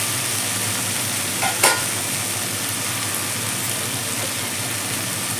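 Stirring sounds from lentil-powder curry frying in a pan, with a steady continuous sizzle and one brief louder scrape near the start, no voices.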